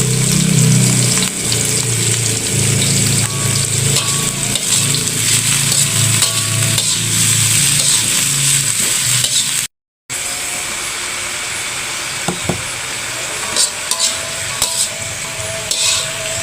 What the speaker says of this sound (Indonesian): Kita tumis batangnya dulu.